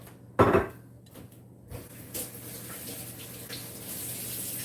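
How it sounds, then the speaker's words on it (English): Kitchen sink water running as hands are rinsed after mixing salmon patties, with a brief clatter at the start followed by steady splashing and faint clinks, close and with no talking. "I'm going to go rinse my hands off"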